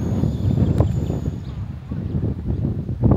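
Steady wind buffeting the microphone at a residential construction site in San Pablo, a low rumbling roar that swells and eases throughout, with a few faint knocks.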